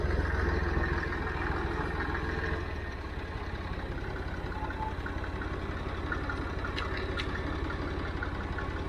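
A Model 50 tractor, jury-rigged to start, idling steadily in a farm setting, a low, even engine chug with rapid regular pulses, slightly louder at first then settling, a few faint clicks near the end.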